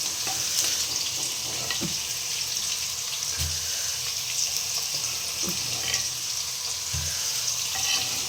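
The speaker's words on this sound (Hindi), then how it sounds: "इधर आलू भी हमारी फ्राई हो रही है।" Potatoes sizzle steadily in a pan on a gas stove while masoor dal cooks nearby, a soft continuous frying hiss with a few faint clinks of utensils.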